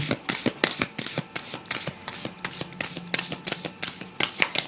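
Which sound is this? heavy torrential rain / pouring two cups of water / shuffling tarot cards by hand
shuffling tarot cards by hand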